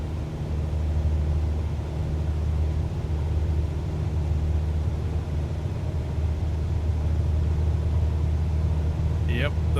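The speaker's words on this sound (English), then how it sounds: "I can already feel this thing's accelerating much slower." A steady, dense jet engine roar at high power fills the cabin as a simulated airliner in Microsoft Flight Simulator rolls down the runway, heavily loaded, with a constant low rumble and no change in level throughout.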